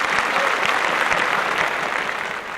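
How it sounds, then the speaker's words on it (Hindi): Dense, steady applause from a political comedy audience, many hands clapping loudly and continuously with no voices above it, holding at an even level and easing slightly at the end. "अरे जरा जोर से तालियां बजानी"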